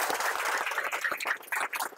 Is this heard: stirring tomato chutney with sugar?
no